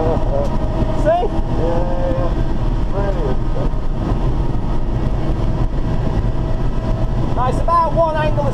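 A Suzuki Swift race car engine holds a steady, loud drone at full throttle through a corner on a lap, with no gear change, and voices cut in over it now and then.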